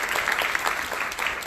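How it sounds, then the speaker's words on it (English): A seminar audience claps for themselves, a short burst of steady, dense applause from a moderately sized crowd, fairly close and without talking over it. "So everyone, round of applause for you guys."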